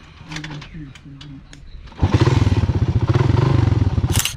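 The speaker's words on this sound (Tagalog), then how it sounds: "Wala pataas di kaya ng motor." Motorcycle carrying riders on a steep uphill road near a beach in Bolinao, Pangasinan, engine labouring loud and close with a rough pulsing rumble after quieter clatter and voices at the start.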